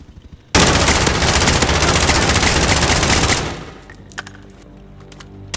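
Loud, sustained automatic machine gun fire bursts in suddenly, rattles continuously for about three seconds, then trails off into a few scattered shots and echoes.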